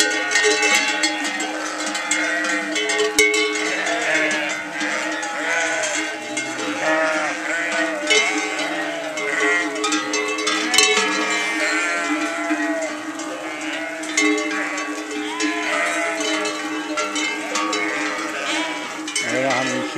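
A large flock of sheep moves along a rural path in Spain during the traditional transhumance migration, many cowbells clanking continuously in a dense, overlapping jangle with scattered bleats, steady and close throughout.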